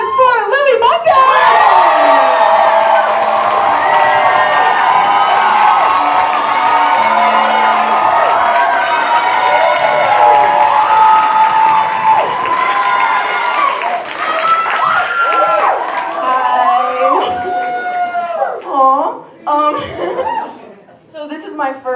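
A stand-up comedy crowd in a park claps and cheers loudly for a comedian taking the stage, with whoops and laughter, then the applause thins out as talking begins.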